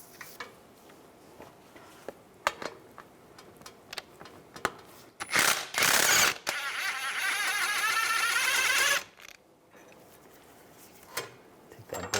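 Socket wrench with a 15mm socket and long extension loosening a bolt under a Buick Enclave, scattered metallic clicks and taps, then a sustained loud rapid ratcheting burst for about three seconds, followed by more light clinks.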